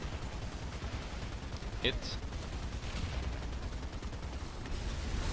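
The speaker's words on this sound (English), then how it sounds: "You can fire with the machine guns, hit them, crit them and all that." Tank machine guns firing in War Thunder, a steady rattling burst of gunfire running under game noise, with a brief spoken word partway through.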